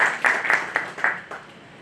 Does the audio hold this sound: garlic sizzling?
no